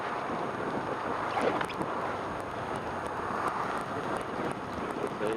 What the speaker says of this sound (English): Can you hear the wind? It is very, very windy.